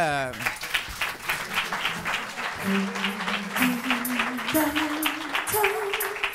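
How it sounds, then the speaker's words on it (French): A French TV studio audience claps steadily, with a bright wash of applause while a voice speaks or sings over it. "Je vous demande d'applaudir le professeur Odysseus."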